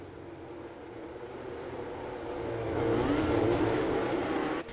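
Midget race cars roar around the Limaland racetrack as the green flag waves, a continuous engine drone that swells louder and closer as the pack passes.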